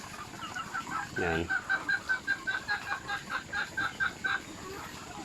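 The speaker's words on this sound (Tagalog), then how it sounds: "Ang mga manok dito ay sari-sari" Chickens of mixed kinds cluck in a series of short, rhythmic calls near a backyard fishpond and nipa hut, with one louder squawk early on; a single brief spoken word comes through.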